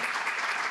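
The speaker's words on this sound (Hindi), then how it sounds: "एक बार जोरदार तालियों के साथ डॉक्टर अनंत का स्वागत करें" Loud, dense applause from a poetry evening audience welcoming a doctor to the stage, steady and unbroken throughout the brief moment.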